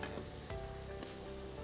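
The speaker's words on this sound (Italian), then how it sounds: "i nostri pomodorini che si friggono, sono belli" Cherry tomatoes frying in a pan for a bruschetta topping: a steady, dense sizzle with faint crackles, close and continuous, with no voices.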